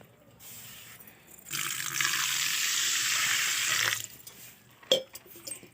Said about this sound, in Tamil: க்ளீன் பண்ணுறதுக்கு ஒரு அரை சொம்பு தண்ணி